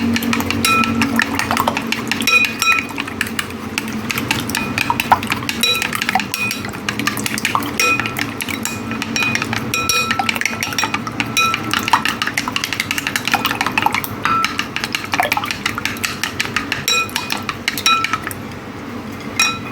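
Spatula and utensils clinking and scraping in a pan while eggs with shrimp and crab meat are scrambled, a steady busy stream of metallic taps and scrapes throughout with no talking.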